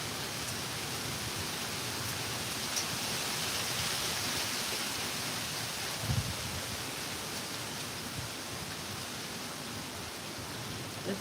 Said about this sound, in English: This is the second day I've done it with rain, but I'm actually getting wet this time.